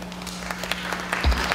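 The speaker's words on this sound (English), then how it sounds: "Please give her a warm round of applause." An audience at a 2017 conference on Champa applauds a speaker as she is introduced, a short, moderately close burst of steady clapping.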